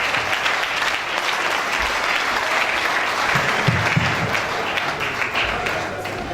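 Audience at an event opening steadily clapping for the chairman, a dense, sustained wash of applause throughout with a few brief low murmurs from the crowd.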